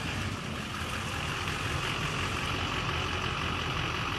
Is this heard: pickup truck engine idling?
yes